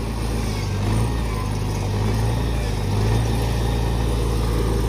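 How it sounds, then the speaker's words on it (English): A 1960 International Harvester Cub Lo Boy tractor runs steadily in first gear with its PTO engaged as the mower deck is lowered, its engine a close, continuous low drone with slight swells. "We'll lower the deck down."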